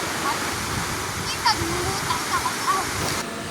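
Water pouring steadily over a small mini dam on a river in San Jose, Camarines Sur, a continuous broadband rush that stays even throughout, with a few brief brighter splashes and faint voices in the background.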